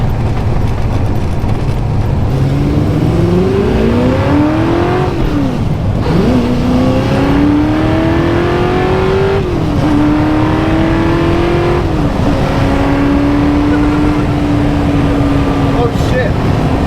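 A Ford GT40 engine accelerates hard from inside the car, its loud rising roar broken by several quick gear shifts and climbing again each time over steady cabin noise.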